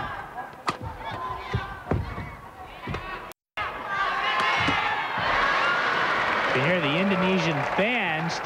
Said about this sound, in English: Cheering on Taufik with every shot.